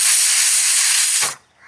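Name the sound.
pressure cooker whistle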